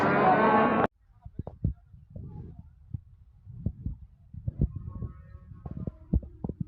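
A brief burst of loud noise gives way to a cow's low, deep moo and scattered thumps and shuffling of livestock nearby at a livestock market in Denov.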